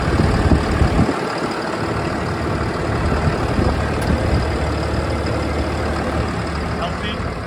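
6.7 liter Cummins ISB diesel engine idling in a 2015 Ford F-750 box truck, a steady low rumble heard close with no voices over it.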